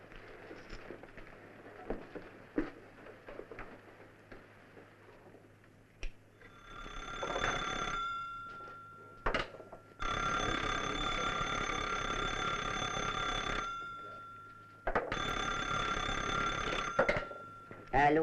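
After a call is dialed to a Montmartre number, a telephone bell rings in long, loud repeated bursts; voices and small noises come before the ringing starts.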